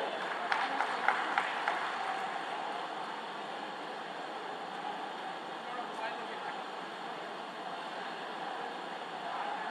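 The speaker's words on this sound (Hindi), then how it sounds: "तालियों से उनका स्वागत करें।" A crowd at the inauguration of the Mahatma Gandhi Setu bridge's flank claps in steady, dense applause that holds evenly for several seconds at moderate volume.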